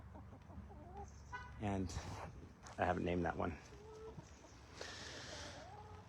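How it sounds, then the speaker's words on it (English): Chickens cluck and squawk nearby in short rhythmic bursts in a backyard while a person talks quietly outdoors. "Say hi to the chickens."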